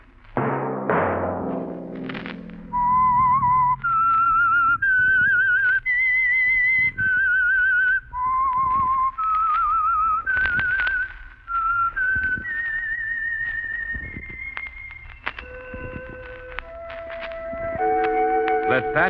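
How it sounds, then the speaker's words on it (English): The whistled theme signal of The Whistler, a Signal Oil radio mystery program, is heard as a clear solo whistle carrying a rising and falling melody of sustained notes, close and prominent, with a brief voice near the start. "That whistle be your signal for the Signal Oil program, The Whistler."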